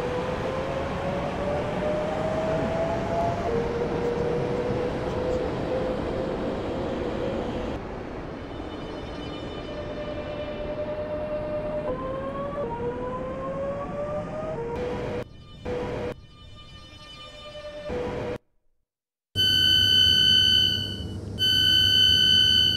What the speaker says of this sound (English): This train is now approaching Hemdon Park.